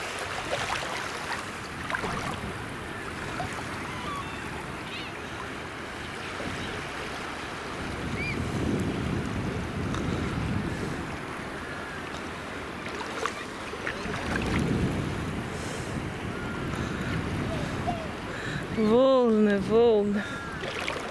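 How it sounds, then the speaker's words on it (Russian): Sea waves wash in a continuous, soft rushing surge along the shore in Quebec, Canada, swelling and easing in slow pulses, with a voice speaking briefly near the end. "Волны."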